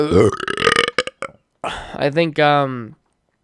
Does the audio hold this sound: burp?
yes